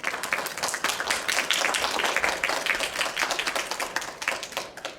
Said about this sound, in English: Please welcome her to the stage with a round of applause.